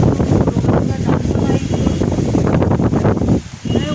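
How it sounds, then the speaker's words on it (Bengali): Strong wind whips through a rainstorm, roaring and buffeting against the microphone in heavy, uneven gusts that hold close and loud before briefly easing near the end. "এত জোরে হাওয়া দিচ্ছে"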